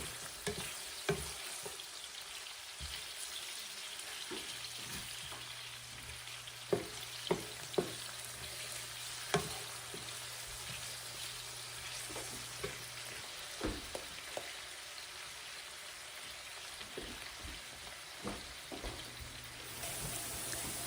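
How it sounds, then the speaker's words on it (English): Onions frying in a pan and being broken up and stirred with a utensil: a continuous soft sizzle with scattered sharp clicks and scrapes from the stirring, close by, with no talk. "So I'm just breaking up my onions right now."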